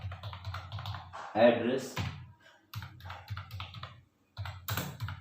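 Computer keyboard typing and mouse clicks fill form fields in bursts of quick taps, separated by short pauses, while a person talks between them.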